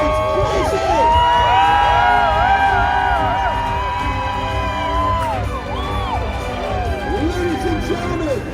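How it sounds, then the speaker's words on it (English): A festival crowd cheering and whooping at a jousting match at a renaissance faire, with many overlapping shouts and children's cries, loud and sustained, and voices talking through it. "And the crowd goes crazy."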